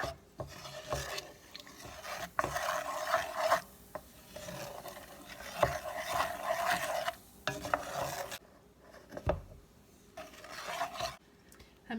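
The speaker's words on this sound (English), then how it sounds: "I'm adding the 1 teaspoon of baking powder to the flour and mixing that up for a while" Baking powder is being stirred into dry flour, making rhythmic rasping and scraping strokes in close, uneven bursts with short pauses between them.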